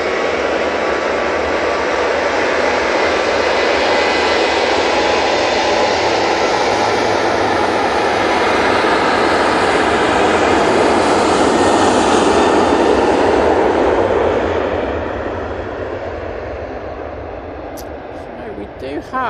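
A Ryanair airliner takes off from Manchester Airport bound for Faro, its engines roaring loudly and steadily throughout, swelling to a peak near the middle before easing slightly toward the end.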